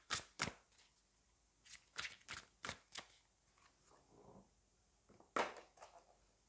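Tarot cards are shuffled and drawn for a love reading, giving quiet, crisp riffling snaps in uneven bursts with short pauses between them.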